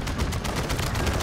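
Chopper gunner fire in Modern Warfare 3 crackles as a rapid, dense burst of repeated gunshots, loud and continuous over a low rumble.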